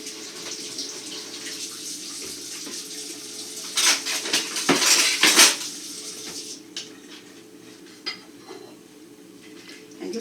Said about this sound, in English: Just a little rinse off here.